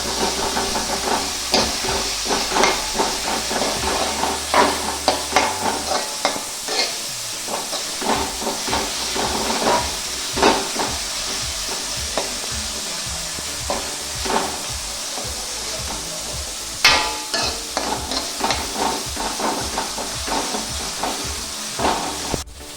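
Curry leaves and onion sautéing in a pan for a Kerala-style beef pepper roast, a steady close sizzle and hiss with frequent light stirring clicks throughout.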